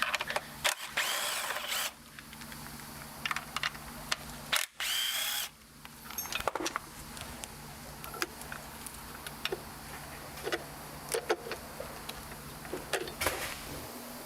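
A power tool whirs in short, loud bursts as it backs a 10 mm nut off a stud on a bracket in the engine bay of a 3.6L Pentastar WK2 Jeep Grand Cherokee, with clicks and handling noise between bursts.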